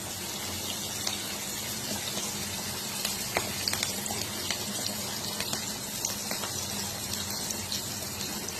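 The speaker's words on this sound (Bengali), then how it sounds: "তেল দিয়ে দিলাম, তেলের মধ্যে পেঁয়াজ দিলাম, এবার শুকনো লঙ্কা দিয়ে দিচ্ছি" Onion and dried red chillies frying in hot oil, a dense, steady sizzle with scattered small pops and crackles, moderately loud and close throughout, with no talk.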